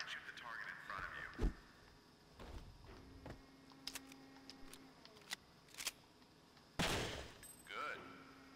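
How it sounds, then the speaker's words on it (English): Gunfire from a target-shooting drill in a video game: a handful of separate sharp shots spaced irregularly, one heavier crack near the end, over a faint background with occasional game effects. "try and shoot the target in front of you"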